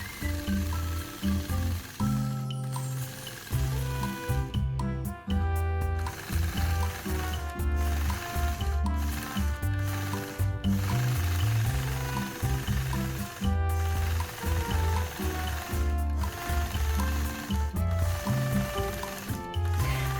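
A quilting machine stitches a swirl leaf border in a steady, close mechanical chatter of rapid needle strokes. It pauses and restarts repeatedly over about twenty seconds.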